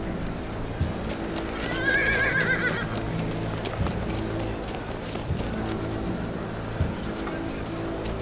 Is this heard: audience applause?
no